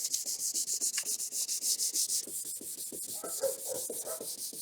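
Sandpaper being rubbed by hand over an older car headlight in quick, even back-and-forth strokes, a close, rhythmic raspy scratching that keeps going steadily with no talking.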